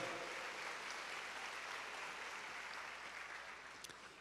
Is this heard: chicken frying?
no